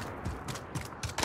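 Weapon reload in the shooter game Call of Duty: Modern Warfare, a short run of mechanical clicks and metallic ratcheting in several quick bursts, close and clear.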